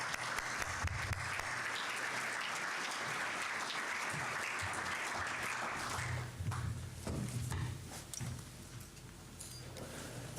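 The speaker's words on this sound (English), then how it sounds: "please do a round of applause to welcome you" Steady applause from an audience welcoming Bishop Adrian Newman fills an indoor hall for about ten seconds, thinning slightly toward the end, with some shuffling and footsteps underneath.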